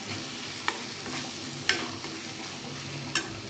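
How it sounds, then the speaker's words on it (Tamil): Boiled, chopped spleen stirred with onion and tomato in a frying pan, a soft continuous sizzle with a few sharp spoon clicks against the pan, alone and fairly quiet. "சேர்த்துட்டு நல்லா கலந்துக்கலாம்."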